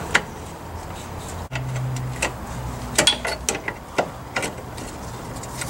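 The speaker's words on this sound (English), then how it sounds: "I'm gonna go ahead and remove the clip holding the" Metal clicks, scrapes and small ratcheting taps as a brake line retaining clip is worked off the front suspension of a four-cylinder Foxbody Mustang, irregular and close, over a low steady background hum.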